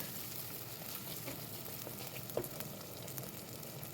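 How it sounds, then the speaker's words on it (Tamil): Onion and garlic sauté in a pan for a fish curry, a steady faint sizzle with occasional soft stirring clicks, continuous and without talk. "இப்போ வெங்காயம் பாதி வதங்கினதுக்கப்புறமா பூண்டையும் சேர்த்துட்டு ரெண்டு கிண்டு கிண்டி விட்டுக்கலாம்"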